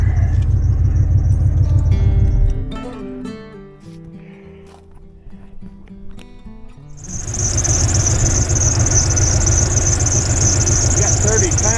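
Truck engine idling after being cranked back up with a pressure gauge attached, a loud steady rumble that drops away into quieter clanks, then returns strongly with a high whine over it.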